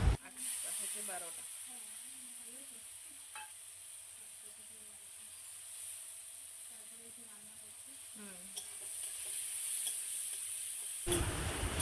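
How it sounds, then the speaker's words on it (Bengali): Chopped onions and tomato fry in a pan with turmeric, giving a soft, continuous sizzle and hiss, with quiet stirring and a faint voice now and then. "কুচিয়ে রাখা 2টো পেঁয়াজ, 1টা টমেটো দিয়ে দিলাম এবং ভালোভাবে ভেজে নিলাম"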